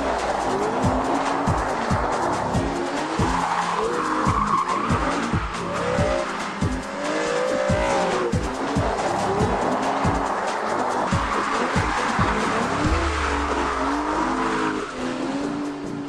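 An Aston Martin DB9, a front-engine rear-wheel-drive GT, drifts on a track with loud, continuous engine roar and repeated tire squeal throughout.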